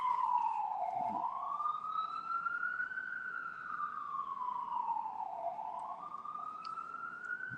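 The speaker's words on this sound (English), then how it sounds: "There was an ambulance going by." Ambulance siren passing by, a loud wailing tone that rises and falls slowly through the whole stretch, with no voices over it.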